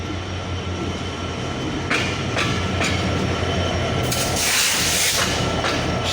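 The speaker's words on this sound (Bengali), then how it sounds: "765 নীলসাগর এক্সপ্রেস ট্রেনটি" The 765 Nilsagar Express, hauled by locomotive 6632, pulling into Parbatipur Junction: a loud, continuous rumble of wagons with rhythmic wheel clacks and bursts of hissing, close and steady.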